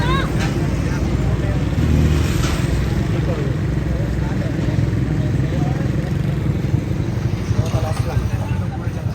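A vehicle's engine drones steadily as it approaches along a village road, with people talking over it throughout.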